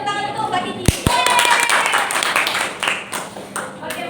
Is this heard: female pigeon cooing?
no